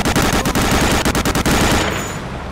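Rapid machine-gun fire from the game Medal of Honor: Allied Assault, a loud, close burst of evenly spaced shots that stops and fades into a short echoing tail.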